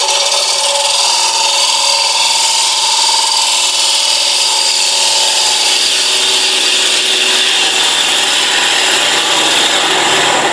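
A toffee dish turns on a wood lathe as the tool takes a small cut, giving a loud, continuous scraping and rubbing hiss that holds steady for the full length, with no talking.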